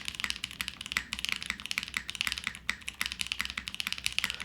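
Steady typing on a Vanguard65 mechanical keyboard, crisp clacky keystrokes in a quick, fairly even rhythm, close up with no voices.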